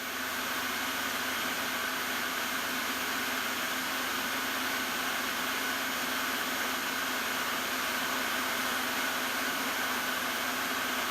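A milling machine takes a deep 250-thou cut in metal without flood coolant. It gives a steady, loud broadband whine and hiss that continues without a break and with no talk over it.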